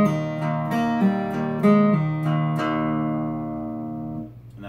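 Slow guitar picking of a song intro, a run of about eight plucked notes with pull-offs, clear and close, the final note ringing out and fading alone.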